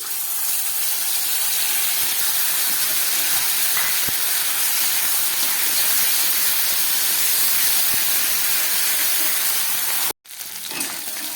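Steady loud sizzle of potatoes frying in a pan with ground cumin, pepper, dry chilli and ginger paste, a continuous close hiss that breaks off briefly near the end.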